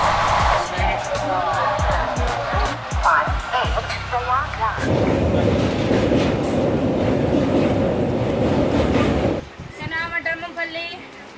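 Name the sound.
passenger train travelling, Mahanagari Express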